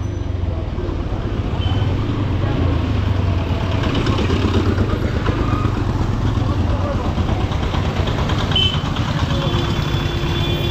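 A motorcycle engine idles nearby with a steady, loud low rumble that holds evenly for the whole stretch, with faint background noise and no clear talk.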